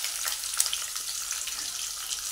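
Onion fries in hot oil in a pan, a close, dense, even sizzle with soft crackles throughout.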